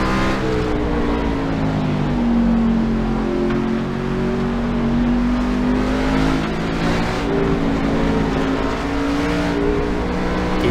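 In-car engine of the 41 race car, driven by Chris Perez, powering up smoothly out of a turn in a Dash for Cash race, a steady loud drone with rising and sweeping pitch, held close and continuous throughout.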